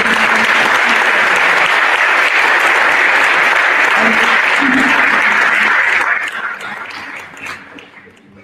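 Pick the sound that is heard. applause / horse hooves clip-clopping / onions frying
applause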